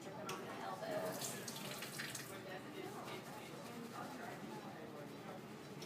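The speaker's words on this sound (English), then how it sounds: "Hands up so that the water's dripping on my elbows." Running faucet water splashing and trickling steadily during surgical hand scrubbing at a sink, water running down toward the elbows, fairly faint and continuous throughout.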